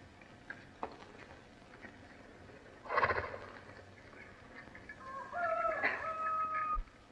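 A horse neighs briefly, then gives a longer whinny a few seconds later, over quiet background noise with a few soft knocks.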